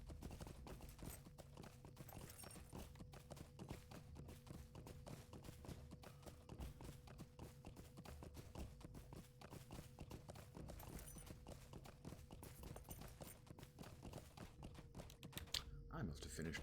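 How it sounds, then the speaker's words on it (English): Horses in Lord of the Rings Online clip-clop across open fields in a steady, quiet hoof rhythm that runs throughout, with soft game ambience behind it. "The fields are alive with the sounds of horses."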